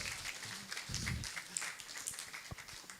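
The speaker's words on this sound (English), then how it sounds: "Clap for yourself too" Scattered clapping from a postgraduate conference audience, uneven and moderately faint, with a few sharper claps standing out.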